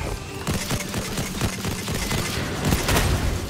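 Rapid shotgun blasts in a multiplayer shooter game, a dense run of sharp, loud bursts overlapping one another with no pause, close and dominant throughout.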